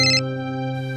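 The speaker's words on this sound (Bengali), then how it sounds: "ক্রাইম ব্রাঞ্চ থেকে ফোন" A phone ringtone plays close and clear, a sustained electronic tone with a bright burst at the start, sounding alone with no talk.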